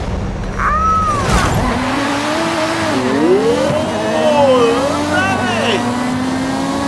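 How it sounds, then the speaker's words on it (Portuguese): Engine of a Lotus Eleven race car in the Forza Horizon 5 racing game, a rising and falling engine whine shifting through gears during a race, steady and up close, with a voice talking over it. "Olha o barulho do motor."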